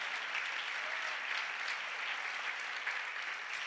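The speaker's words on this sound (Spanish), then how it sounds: "dale un aplauso al Señor" A church congregation at a Sunday service applauds steadily, a dense, even wash of many hands clapping at moderate volume that lasts throughout with no clear voices on top.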